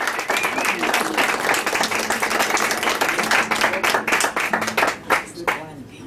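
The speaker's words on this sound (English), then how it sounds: "Or maybe you're just clapping for me." Enthusiastic clapping from a live radio show audience at Historic Handy Hardware, loud and continuous with some crowd voices, before tapering off near the end.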